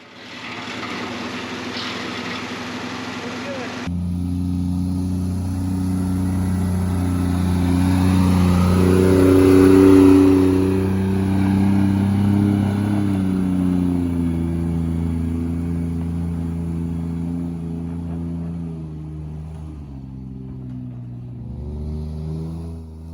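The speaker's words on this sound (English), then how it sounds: "here I'm using the Suzuki carry to haul up some 12-foot sheets of metal roofing" A Suzuki Carry mini truck hauling 12-foot metal roofing sheets drives steadily past with a strong mid-pitched engine hum that swells as it nears, peaks loudly at midpoint, then eases and holds, with a brief gear shift near the end.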